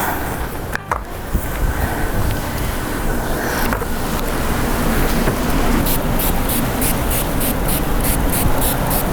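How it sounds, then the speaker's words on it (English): Steady close hiss of a spray bottle misting glycerin and water, with brief rapid pumps near the end, continuous and fairly loud. "spray that with glycerin and water"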